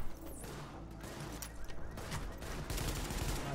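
Sustained, dense gunfire in Tom Clancy's The Division on PS4, with overlapping shots and bursts rolling continuously at steady loudness, while a voice speaks faintly beneath the firing.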